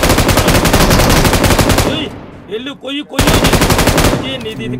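Loud, rapid automatic gunfire from a video game, two long bursts separated by a short pause in which a voice speaks.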